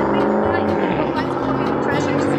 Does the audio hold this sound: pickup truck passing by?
yes